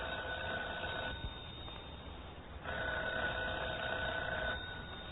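A telephone rings in a radio drama: two bursts of trilling bell, separated by a short pause, moderately faint over a soft hiss, with no voices.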